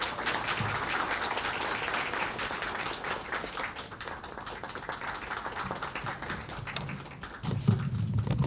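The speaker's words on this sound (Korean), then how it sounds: "박수로 힘차게 맞아주시기 바랍니다" Audience applause at a 2026 business presentation, welcoming the company's chief executive to the stage: dense, steady clapping from a crowd that carries on through the whole stretch with no talk over it.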